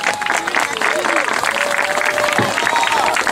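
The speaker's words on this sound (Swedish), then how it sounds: "Har vi lite applåder för dessa damer?" Crowd applause greets the women finishers at a Swecup Sverigeserien 2017 cruiser race heat, steady clapping and cheering filling the clip under an announcer's voice.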